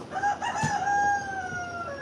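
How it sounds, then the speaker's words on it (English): A rooster crows loudly and close by, one sustained call with a rising start and a long drawn-out tone that falls away at the end, heard alone outdoors on a hot day. "that is a rooster"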